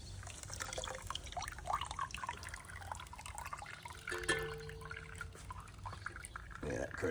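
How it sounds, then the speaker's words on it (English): Water running and splashing as a large Wagner Ware cast iron skillet is rinsed, a steady close wash of liquid under faint background voices. "Lift it and rinse it."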